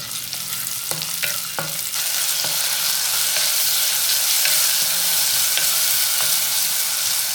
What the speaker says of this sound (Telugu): ఆనియన్ని కట్ చేసుకొని ఆయిల్లో వేసుకోవాలి.